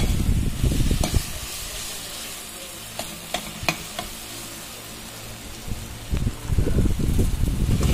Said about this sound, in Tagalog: Lutuin lang natin yung tomato paste. Lalabas yung color.